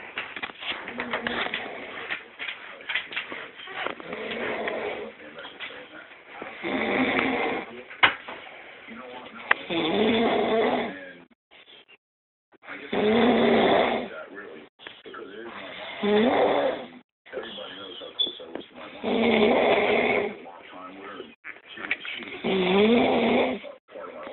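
A woman snores loudly while asleep, nearby, in long rasping breaths repeating in a slow rhythm, with brief pauses between them.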